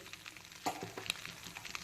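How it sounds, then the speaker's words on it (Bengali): Black cumin seeds hit hot oil left over from frying potatoes, long beans and shrimp, giving a soft, steady sizzle with faint crackles and an occasional stir, quiet and close. "আলু, বরবটি আর চিংড়ি ভাজার তেলেই দিয়ে দিচ্ছি সবার প্রথমে কালো জিরে ফোড়ন"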